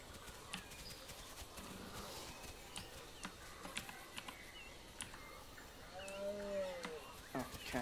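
A cow moos in the survival video game The Isle, a drawn-out lowing call rising near the end of the clip over a busy ambient game soundscape of scattered clicks and footstep-like taps.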